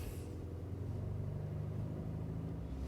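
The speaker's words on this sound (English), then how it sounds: "let's rev her again" A diesel engine in an Audi TDI with an O2 bank 1 sensor 2 stuck-lean fault runs close by as a steady, deep rumble, holding an even level throughout with no voices.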